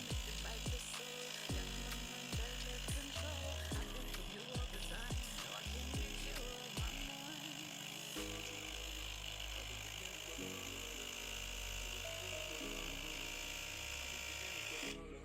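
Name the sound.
Wix Wicks dreadlock machine running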